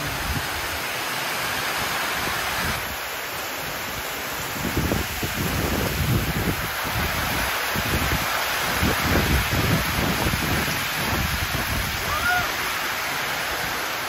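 A steady, heavy typhoon downpour roars continuously with a dense hiss, occasionally swelling slightly louder, with no other sounds standing out.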